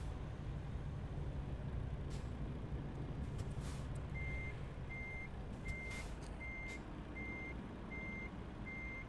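In the American Truck Simulator driving game, a truck's reversing alarm beeps at a steady, evenly spaced rhythm over a constant low engine drone, with a few brief air hisses and no talk.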